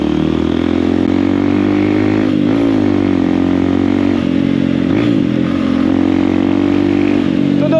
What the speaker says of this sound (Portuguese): É só esperar o tempo certo do giro do motor pra dar aquela reduzidinha.